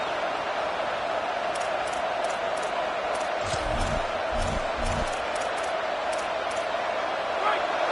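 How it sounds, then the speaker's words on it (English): A football stadium crowd roaring as the defense keeps the opponent pinned deep, a dense continuous wash of crowd noise with a few low thumps partway through and a commentator talking over it. "The roar of the crowd trying to fuel this defense to keep them pinned in their own end."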